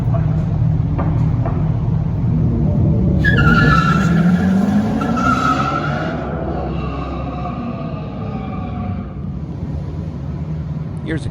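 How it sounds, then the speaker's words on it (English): Dodge Charger EV tires squeal on a concrete test track at an auto show, a long rising screech over a low motor hum, loud in the middle and fading toward the end. "a lot of the screeching that you're hearing is not because the cars don't handle well, it's because they're running on concrete"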